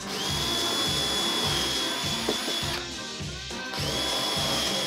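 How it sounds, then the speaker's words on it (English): A power drill bores holes into a homemade splitboard with a loud, steady high whine. The motor cuts out for about a second midway, then spins back up to full speed. "Drill"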